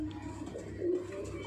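Arshad line pigeons in a Kolkata loft near Barrackpore give a soft, brief cooing call close by, over a low background hum.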